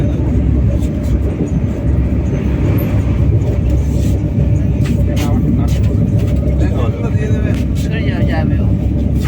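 The Shalimar–Puri Superfast Express runs at Puri station with a loud, continuous low rumble throughout, while people talk nearby.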